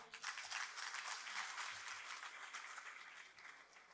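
Audience applause welcoming a poet onstage at an Urdu poetry mushaira in Lahore, full and continuous clapping from a crowd, strongest at the start and easing gradually over a few seconds.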